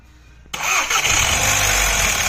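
Quiet hum, then a VW Golf GTI 2.0 TSI engine with low fuel pressure cranks and catches abruptly, settling into a loud steady idle nearby.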